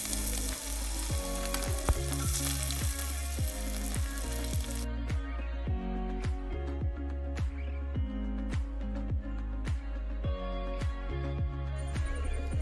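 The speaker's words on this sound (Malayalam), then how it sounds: "ഒരു സൈഡിലിതാ ചിക്കൻ ഫ്രൈ ചെയ്ത് കൊടുക്കുന്നുണ്ട്" Chicken frying in oil in a pan for Thalassery biriyani, a dense steady sizzle heard close up that dips partway through, with faint clinks and stirring and no voices.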